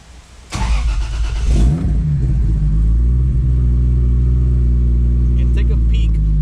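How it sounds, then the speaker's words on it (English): A truck engine catches with a brief crank and a loud burst, then settles into a deep, steady rumbling idle that carries on close by. "So I'm gonna crank the truck on."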